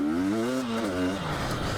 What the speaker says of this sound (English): when it revs up, it makes a lot of power.